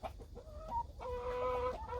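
Native Korean chickens, including silkie-type and golden roosters, cluck and croon close by while eating a pumpkin snack, a run of short throaty clucks flowing into a longer drawn-out call over a low farmyard background.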